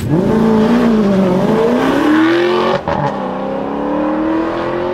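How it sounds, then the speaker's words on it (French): An Alfa Romeo 8C's V8 engine roars and revs up with a rising pitch, briefly drops as it shifts, then carries on at a steady growl, loud and close. "Alfa avait déjà tapé très fort avec la 8C en 2006 et son V8 infernal"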